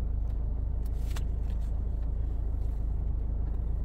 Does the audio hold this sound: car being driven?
yes